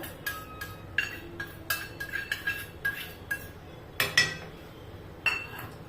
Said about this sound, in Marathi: हे एकदा पुन्हा मिक्स करायचं, असं हलवून घ्यायचं आणि मग या दुधामध्ये हे टाकत चालायचं आहे।